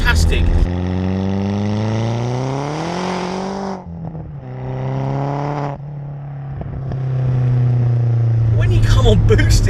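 Decatted Scorpion exhaust on a hybrid-turbo SEAT Leon Cupra R hot hatch, a loud steady engine drone rising in pitch, dipping briefly, then climbing again, with a voice talking over it.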